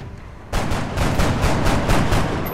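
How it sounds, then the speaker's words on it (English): Burst of rapid gunfire from an enemy in XCOM: Enemy Unknown, a loud onset followed by a string of evenly spaced shots close by, with no talking. "One guy got a shot off."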